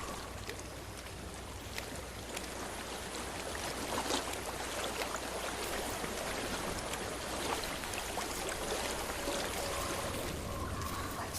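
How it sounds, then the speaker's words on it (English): Steady, soft wash of flowing stream water in the video game Hellblade, a continuous broadband rush with faint trickles and splashes throughout and no speech. "I hear water."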